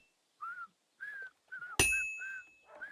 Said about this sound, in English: That's Radovan actually whistling.